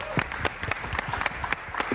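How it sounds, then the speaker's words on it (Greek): Studio audience applauding on a magic show: a short burst of scattered hand claps, fairly close and brisk, with voices mixed in. "Έλα, δώστε της ένα θερμό χειροκρότημα."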